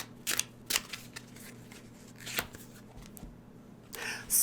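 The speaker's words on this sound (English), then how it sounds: "Let's pull a card for August." Tarot cards shuffled by hand, a series of soft papery riffles and slaps, fairly quiet and close, ending with a brisk flick as a card is drawn.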